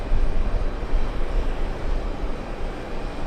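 A jet airplane takes off from runway 13, a loud steady roar of engines with broad rumbling noise that holds throughout without any talk.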